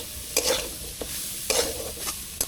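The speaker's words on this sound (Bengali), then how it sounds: "আমার ঝাল পেঁয়াজ রসুন ভাজা হয়ে গেছে" Chilli, onion and garlic fry gently in a pan, a soft continuous sizzle broken by a few sharp scraping stirs of a spatula against the pan, close and quiet with no talk.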